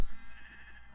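A Minecraft sheep lets out a single wavering bleat, loud and close over a faint game backdrop.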